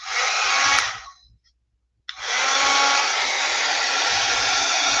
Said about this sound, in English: I'm going to hit it with the dryer, speed it up a little bit here